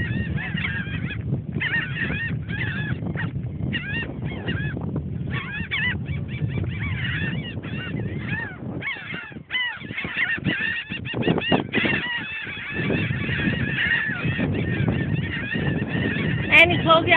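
Goose honking continuously while being hand-fed pieces of a sandwich, loud repeated nasal calls in rapid bursts, close to the listener, with no talking.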